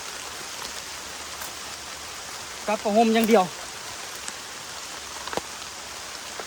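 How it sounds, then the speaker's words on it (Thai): Heavy rain pours down steadily in a dense, even hiss from start to finish, with a brief burst of a voice speaking partway through. "ฝนหนักละ"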